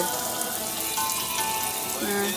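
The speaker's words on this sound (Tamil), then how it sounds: "கருவேப்பிலை தண்ணி கழுவு." Curry leaves being rinsed in water while cooking broad beans paruppu sadham, a steady running-water wash with light splashing that continues throughout, a faint voice speaking briefly under it.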